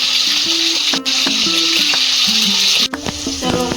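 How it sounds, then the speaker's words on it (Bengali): Pumpkin and potato pieces frying in hot oil with salt and turmeric, a loud, dense, continuous sizzle with clanks of stirring; two brief dips where the hiss cuts out. "কুমড়োটা আলুটার সাথে একটু ভেজে নেবো।"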